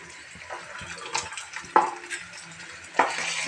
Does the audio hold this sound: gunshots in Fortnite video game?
no